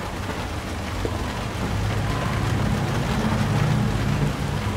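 Steady rain in a Tomb Raider video game hisses evenly and continuously, a dense wash of falling drops with a faint low rumble underneath and no voices.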